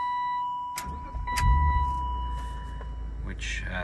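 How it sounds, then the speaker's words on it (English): A 1998 BMW Z3 with a 2.8L straight-six cranks briefly and catches, then settles into a steady close idle, with a faint electronic chime tone running beneath it. "So we'll get the engine running."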